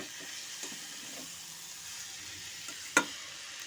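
Cabbage being stirred with spices in a hot pan for a vegetarian Bengali murighonto, a continuous soft sizzle and hiss with faint occasional stir scrapes and one sharp utensil tap near the end, no voices.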